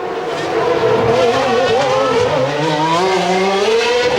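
Ferrari Formula 1 car at the 1992 Monaco Grand Prix spinning out before the Rascasse, a loud, close, continuous high engine wail with shifting pitch and tyre scrub, with no talk.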